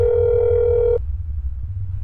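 A steady telephone dial tone from the That's Not My Neighbor video game hums loudly for about a second, then cuts off abruptly, leaving a low background rumble.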